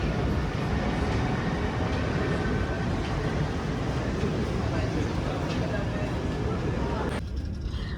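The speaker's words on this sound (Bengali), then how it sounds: "এই যে আমাদের ট্রেন চলে আসছে, সবাই ট্রেনে উঠবো।" A train arriving at a station in Belgium rumbles steadily with a broad, continuous roar of wheels and motion, loud and close for several seconds before the noise shifts.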